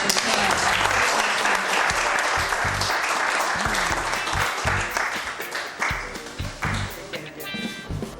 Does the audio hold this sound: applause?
yes